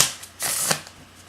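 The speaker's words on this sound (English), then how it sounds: "And I'll show some shuffling on camera." A brief riffle of tarot cards being shuffled, a quick close flutter lasting under a second, with no voices.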